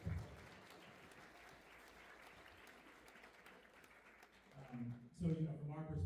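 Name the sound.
audience applause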